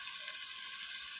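Cumin powder sizzles as it hits hot oil in a pot of khichuri, a steady soft hiss that stays even and close throughout the moment, with no voices over it.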